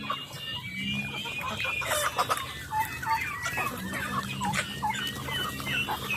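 Pet chickens cluck and chatter close by while being fed corn and feed, a busy overlapping stream of short clucks and calls over background rustle, with no talk.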